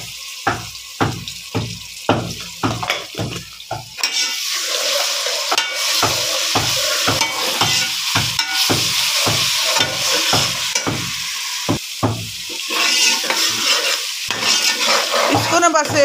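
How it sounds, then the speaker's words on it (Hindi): Garlic and ginger frying with browned onions in a pan, stirred with a utensil: rhythmic scraping taps at first, then a steady loud sizzle with occasional clinks, no talking. "इसको ना बस 1 मिनट तक भूनना है ताकि इसका ना कच्चापन दूर हो जाए।"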